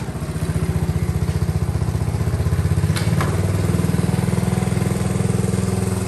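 Honda CT70 K0 motorcycle bought at auction, its small single-cylinder engine running in gear with a steady, even putter, close and loud throughout.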